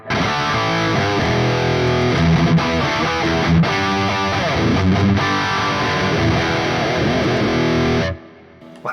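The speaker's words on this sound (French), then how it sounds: "C'est le son que je me suis fait du Soldano." An electric guitar plays through a Soldano amp model with reverb, giving a loud, distorted tone with ringing chords and sustained notes that fill eight seconds before cutting off abruptly into a quiet tail.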